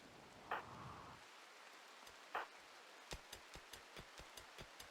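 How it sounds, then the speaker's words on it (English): Rain patters softly in RimWorld, a faint hiss with a couple of brief bursts and a series of evenly spaced clicks toward the end, no voices. "That's a lot of rain."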